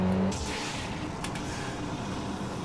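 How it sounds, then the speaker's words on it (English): Racing car engine with nitrous boost in the video game Street Racing Syndicate, a steady loud roar holding throughout with a brief sharp burst near the start. "Car sounds funky during NOS."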